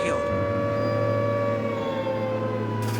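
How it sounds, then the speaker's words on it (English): A steady wailing siren drones on, loud and continuous, with a low engine rumble underneath. "we could hear sirens as we saw smoke in the direction of the scrapyard"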